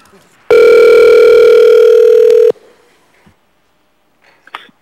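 A loud, steady telephone dial tone holds for about two seconds while a call is placed to a caller during a public hearing at a municipal assembly meeting, then stops abruptly, leaving faint room noise.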